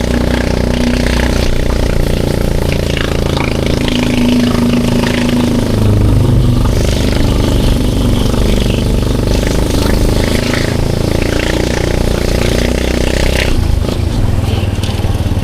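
An old Honda TMX motorcycle engine roars loudly and close, revving and rumbling continuously with a gritty, throbbing tone.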